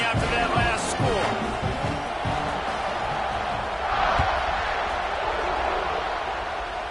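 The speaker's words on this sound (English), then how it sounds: "this crowd is buzzing after that last score" Stadium crowd in the College Football 26 video game, a loud continuous roar and buzz swelling briefly, with a commentator talking over it.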